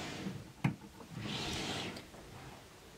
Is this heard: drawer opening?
yes